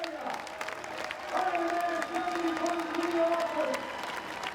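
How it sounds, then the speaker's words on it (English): Crowd at the Ironman 70.3 Auckland triathlon applauding and cheering a finisher, a distant wash of clapping and whoops beneath an announcer's voice. "the crowd here in Auckland, are still going to welcome Christian home as he is one of our own."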